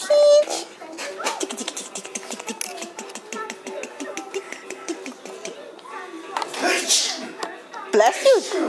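A small child sneezes at home amid chatter, with adults' voices and the child's babbling around a few sharp bursts of sound.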